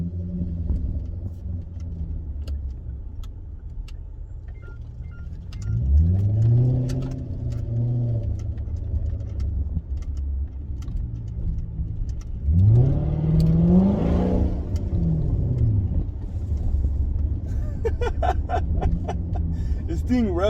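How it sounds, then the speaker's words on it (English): A Genesis 5.0 engine with an aftermarket throttle pedal controller, in Sport Plus mode, revs up loudly twice in rising, falling sweeps while downshifting, with steady engine rumble between and a voice talking over it. "As soon as you hear that rev getting so loud like that, it's because it's dropping gear"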